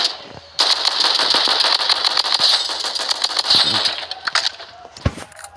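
A Scar assault rifle firing in the mobile shooter game Blood Strike: one loud, rapid automatic burst lasting several seconds, then a few scattered single shots and clinks.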